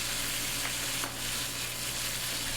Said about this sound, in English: we're going to flip them one more time. Both sides are seared.